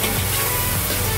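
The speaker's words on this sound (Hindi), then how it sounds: "हमारी सब्जियां भुन रही हैं चिकन के साथ" Vegetables and boiled chicken fry in hot oil in a pan, giving a steady, close crackling sizzle for a brief moment with a low rumble beneath and no talking.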